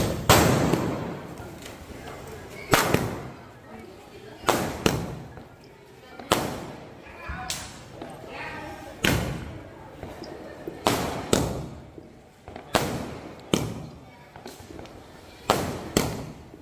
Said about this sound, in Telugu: క్రాకర్స్లో నాకు ఈ షార్ట్స్ అంటే చాలా ఇష్టం